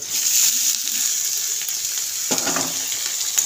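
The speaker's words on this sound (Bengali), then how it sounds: "আমাদের পেঁয়াজ ব্রাউন হয়ে গেছে, এর মধ্যে ধুয়ে রাখা ছাট ফ্যাপসাগুলো আমরা এবার দিয়ে দেবো" Washed goat offal pieces sizzling loudly as they hit browned onions in hot oil, a steady close frying hiss that swells as the pieces are stirred in.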